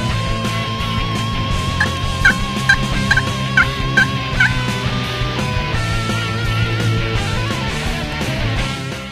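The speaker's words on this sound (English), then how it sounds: "Once I hit that call and heard that gobble, I knew it was game on." Wild turkey gobbling in answer to a hunter's call, a series of short bursts heard over a steady low background rumble.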